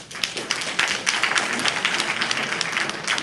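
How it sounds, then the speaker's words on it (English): An audience claps hands in response to a prompt at a leadership gathering, steady scattered clapping of many hands at moderate level throughout. "clap your hands"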